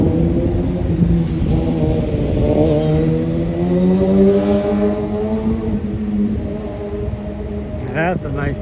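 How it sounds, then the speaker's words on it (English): A motorcycle passes along a busy street near Lexington Avenue and 51st Street in New York City, its engine rumbling and rising in pitch as it goes by amid city traffic noise. "A motorcycle right now."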